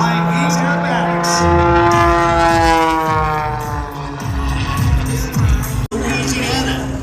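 A Red Bull stunt plane flying aerobatics at an airshow, its engine droning and sweeping in pitch as it maneuvers, with crowd noise and a voice talking over it.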